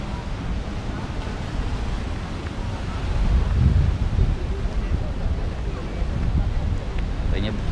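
Surf rolls onto the beach near Pandawa, a continuous close rush of waves that swells midway, mixed with heavy wind buffeting against the microphone.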